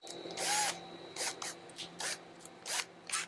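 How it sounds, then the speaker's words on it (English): A power drill whirs in several short bursts of varying length while parts of a Hawken muzzleloading rifle kit are fitted, close and loud with brief pauses between runs. "So I'm going to, again, take the drill,"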